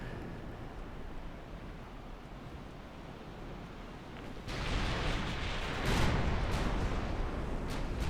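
Heavy warship main guns firing at will in Ultimate Admiral: Dreadnoughts, Japanese ships in a 1917 battle: a low rumbling backdrop erupts midway into loud booming salvos with sharp cracks and rolling echoes.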